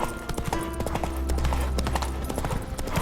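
Hooves of Geralt's horse Roach in The Witcher 3 video game, a brisk, steady clip-clop of a walking horse, close and clear over a low background drone.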